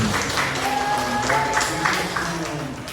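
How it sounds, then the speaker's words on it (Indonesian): Audience applause for a young storyteller, Mbak Jasmine, at a district storytelling competition final held in a regional library; a dense wash of clapping fills the hall at moderate level, with a voice and faint tones showing through. "Yuk tepuk tangan buat Mbak Jasmine"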